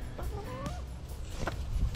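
Backyard chickens, including gray hens, being hand-fed string cheese, giving a few short clucks and squawks close by, with rustling and handling noises around them.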